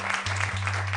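Studio audience applause on an Italian TV cooking competition show, a dense steady clapping that fills the whole second under a low electronic hum.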